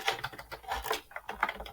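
Keys clatter on a computer keyboard while a query is entered into an issue-tracking search field, a quick irregular run of light, close taps heard alone.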